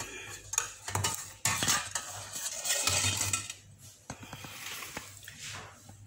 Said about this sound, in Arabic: هاد الشوكولاط زدنا عليه واحد المعلقه ديال لاكريم فريش كانت شاطت، غادي نخلطوها معها.